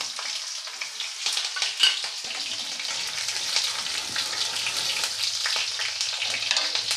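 Mustard seeds, curry leaves and green chili hitting hot sesame oil, a continuous bright close sizzle with a few sharp crackles and pops.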